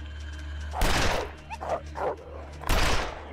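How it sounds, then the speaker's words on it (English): A wild dog in The Long Dark gives two sharp, loud barks about two seconds apart, with softer whimpering yips in between, close by in a quiet setting. "I heard the bark over this way."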